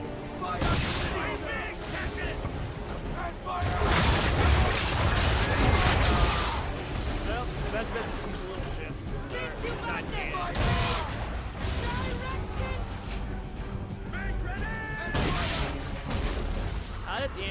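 Cannon fire in an Assassin's Creed 3 naval battle comes as a rolling volley of heavy booms and crashing blasts over a steady ocean-and-ship din, with shouted commands and a commentator's voice throughout.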